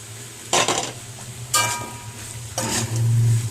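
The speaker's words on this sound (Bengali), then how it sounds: "দিয়ে দেওয়ার পর আমি এটার মধ্যে নেড়ে চেড়ে নিচ্ছি" Dried Loitta fish and potatoes stirred in a pan, giving three separate bursts of scraping and clattering over a steady low hum, with a soft sizzle running underneath.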